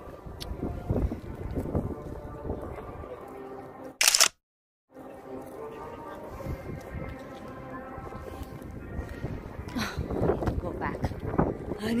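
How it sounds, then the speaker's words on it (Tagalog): Strong wind buffets the microphone outdoors in Seoul, South Korea, a loud continuous rumbling roar that briefly cuts out for a moment before returning, with a person talking over it. "Oh, lakas ng hangin"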